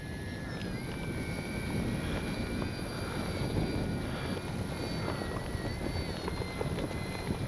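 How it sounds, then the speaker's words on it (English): A radio-controlled FMS PC-21 Pilatus model airplane drones steadily overhead with a high whine, while wind rumbles loudly across the microphone throughout. "Great flying plane, even in this wind."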